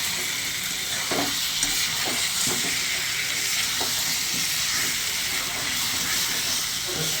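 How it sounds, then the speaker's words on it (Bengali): Oil sizzles and hisses steadily in a pan as egg masala is fried, while a spoon scrapes and stirs now and then, close up. "ডিমের মশলা কষাচ্ছি"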